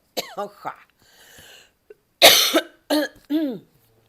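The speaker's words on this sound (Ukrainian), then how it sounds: "трошки ще хворію, тому з кашлям" A few sharp, harsh coughs from a sick person come close together near the middle, after some soft breathy vocal sounds.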